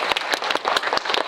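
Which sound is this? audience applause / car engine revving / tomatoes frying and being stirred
audience applause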